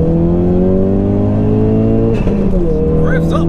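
A 430 bhp Ford Focus RS estate engine drones loudly and climbs in pitch, briefly dips, then rises again as it revs, with a short high squeal near the end.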